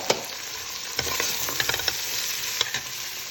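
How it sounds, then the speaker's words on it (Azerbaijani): Soaked lentils frying and being stirred in a pan with turmeric, a steady close sizzle broken by sharp scrapes and clinks of a utensil against the pan. "Və eyni zamanda suda ıslatdığım 2 stakan mərcini əlavə edib biraz da qovururam."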